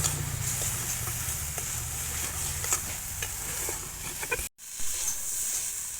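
Coconut and jaggery stirred and pressed in a pan for Bangladeshi pumpkin pitha, giving a steady close scraping sizzle that runs continuously with a brief dropout near the end.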